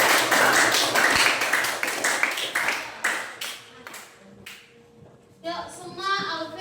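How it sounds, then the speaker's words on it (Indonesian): A group of students in a classroom claps hands together, dense and loud at first, then thinning into scattered claps before a voice starts talking near the end. "Yuk, beri tepuk tangan dulu."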